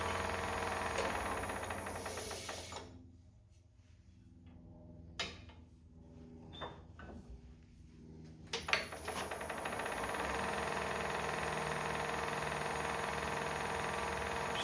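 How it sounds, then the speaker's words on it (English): Spindle gouge making a shearing cut on a small cherry bowl turning on a wood lathe, a steady whirring hum with brief pauses and faint ticking contact sounds before the cut resumes, close and continuous. "Doing a shearing cut here with the spindle gouge."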